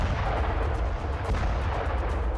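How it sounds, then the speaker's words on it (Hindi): Cluster bomb explosions in war news footage from Crimea make a dense, continuous roar of overlapping blasts and rumbling that stays loud throughout. "क्लस्टर बम विस्फोट कैसे होते हैं, इसे समझने के लिए ये तस्वीरें देखिए।"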